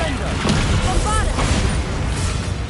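Booming spell blasts from the Bombarda explosion spell in a Hogwarts video game, a dense continuous rumble of explosive bursts layered with whooshing effects, loud and sustained throughout.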